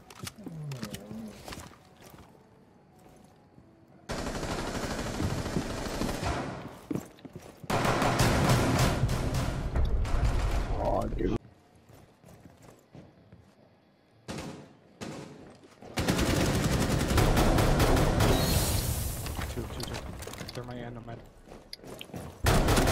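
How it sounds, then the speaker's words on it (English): Assault rifle gunfire in Rainbow Six Siege comes in long, loud, rapid bursts separated by quieter stretches with scattered shots and talk. "They have assault rifles."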